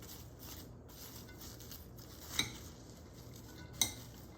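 Coleslaw of shredded cabbage and sliced onion tossed in a bowl, soft rustling stirs broken by two sharp utensil clinks against the bowl.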